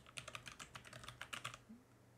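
Fingers type on a computer keyboard, a quick run of soft close key clicks for about a second and a half before falling quiet, very low in level with no talk.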